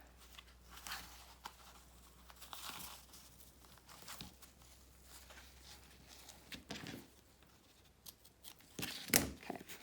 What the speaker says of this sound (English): I'm gonna use double-sided tape to fold these bottom edges to the wrong side and hold it.